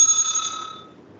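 A timekeeper's small bell rings once during a debate round, a bright metallic ding that rings out clearly and fades over about a second, with no talking.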